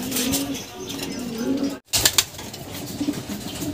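Racing pigeons in a loft coo softly and repeatedly against a steady outdoor background, with occasional bursts of fluttering and shuffling nearby.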